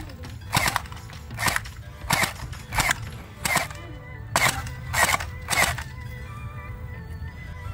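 A gel ball blaster fires about eight sharp shots at a target outdoors, spaced roughly half a second to a second apart, with faint background chatter and noise between shots.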